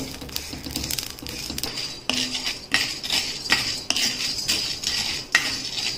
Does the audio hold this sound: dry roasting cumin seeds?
yes